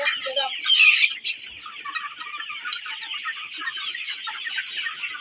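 A flock of Sonali chickens clucks continuously nearby in a poultry shed, with one louder squawking burst early on, then steady overlapping chatter.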